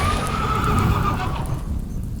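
A horse neighs as a sound effect for a summoned large scarlet fiend horse, a drawn-out whinny with faint hoof clops over a loud, dense ambient rumble, no talk.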